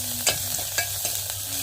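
Black pepper powder fries in oil for rasam over a wood-fired stove, a brief soft sizzle broken by several quick scraping stirs of a spoon in the pan.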